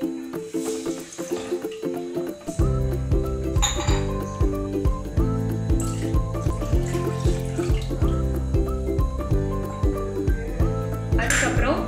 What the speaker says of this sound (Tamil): அது நல்லா வறுத்ததுக்கு அப்புறம் ரவை எடுத்த கப்ல 3 கப் அளவு தண்ணி ஆட் பண்ணிக்கோங்க